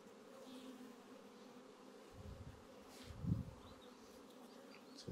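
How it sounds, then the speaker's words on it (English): Honey bees buzz steadily around an opened, weakened hive during a brood nest split, a dense droning hum with a few louder swells as bees pass close. "We really weakened this hive down a lot."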